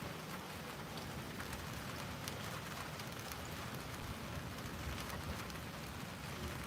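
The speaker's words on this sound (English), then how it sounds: "You can see it's raining." Steady, dense rain falls outdoors in the Philippines, a constant hiss with scattered drops pattering close by, no voices heard.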